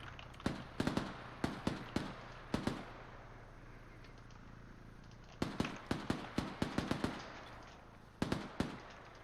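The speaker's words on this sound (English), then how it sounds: "Who's shooting that 50 cal?" A .50 cal machine gun in a military-style tactical game fires in short bursts of sharp, loud reports, with quiet gaps between groups, close and clear over a low hum.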